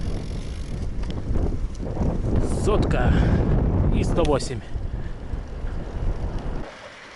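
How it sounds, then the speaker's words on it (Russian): Wind buffets the microphone in open Mongolian Altai mountain terrain, a steady broadband rumble that persists throughout while someone talks, then drops away abruptly near the end. "И сразу привет, ветер."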